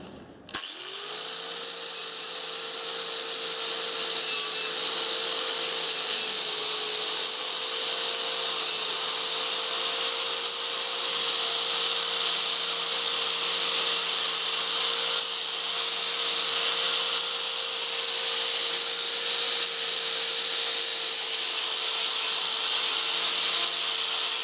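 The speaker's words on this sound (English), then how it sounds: "I'm just going to clean along this face here now with a wire brush and a grinder" Angle grinder fitted with a wire brush cleaning the metal face of a Webb cylinder mower, a sustained high whine that spins up quickly and holds steady and loud up close for over twenty seconds, no speech.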